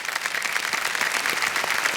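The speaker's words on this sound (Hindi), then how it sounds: "एक बार फिर तालियां बज जाए इनके लिए" Studio audience applause on the set of the Kaun Banega Crorepati quiz show, a dense, steady burst of many hands clapping, loud and close throughout.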